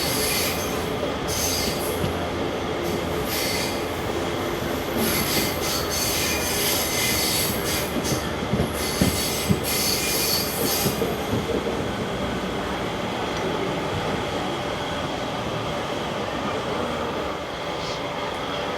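A train pulls out of Neyyattinkara station with continuous rumbling wheels and rail noise, high metallic squeals rising over the steady roar, heard close from on board.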